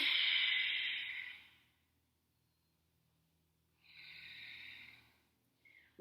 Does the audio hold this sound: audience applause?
no